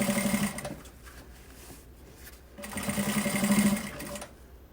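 Sewing machine running in two bursts of steady whirring as it topstitches the main fabric and lining of an insulated lunch bag with a normal presser foot, close and fairly loud, with a quiet pause between runs.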